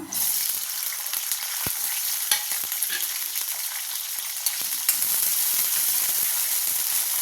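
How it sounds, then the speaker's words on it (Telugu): Green chillies sizzle and crackle steadily in hot oil left over from frying papads, a dense, continuous frying hiss close up with occasional sharp pops and no talking. "ఆ నూనెలోనే వేస్తున్నా ఇప్పుడు పచ్చిమిరపకాయలు వేసుకుందాం"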